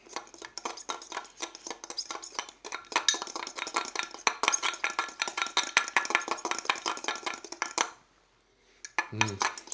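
A spoon scrapes and clinks busily against a bowl while stirring chili into a cream for a sandwich, in rapid repeated metallic taps that stop briefly near the end before resuming.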